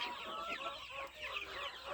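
Many free-range desi chickens, month-old birds, cluck and chatter together in a busy chorus inside a poultry shed, close by and continuous, with no talking.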